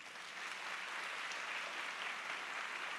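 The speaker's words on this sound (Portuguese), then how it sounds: "Vocês podem aplaudir a vida dele." A church congregation claps together in a steady, even wash of applause, heard fairly faintly and at a distance.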